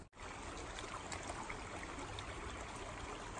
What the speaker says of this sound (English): Evan, do you hear water